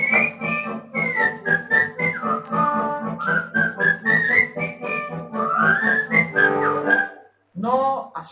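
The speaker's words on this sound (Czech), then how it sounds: "hoši si to pískají." Boys whistling a lively tune together, the shrill melodic line running nearly continuously with rhythmic pulses, close and fairly loud, with a brief pause before a final whistled phrase.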